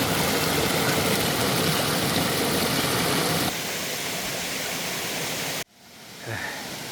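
Waryong Falls in South Korea roars steadily as a dense, continuous rush of water, then cuts off abruptly near the end.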